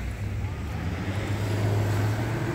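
Many vehicles move along a road near a school, a steady low engine hum and roadway rumble with a passing motor swelling slightly, heard from nearby with faint background voices.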